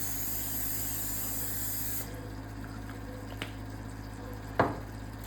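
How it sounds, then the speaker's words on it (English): Cooking spray hisses onto a baking pan in a steady close burst for about two seconds, followed by quiet with a couple of light clicks and a knock. "I just spray the pan"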